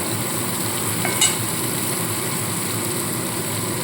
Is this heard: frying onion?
yes